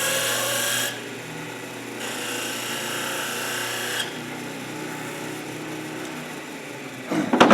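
A power tool cuts grooves into a hard maple workpiece, a steady rasping whine that runs loud and close in long passes with brief shifts between them, then ends in a burst of scraping.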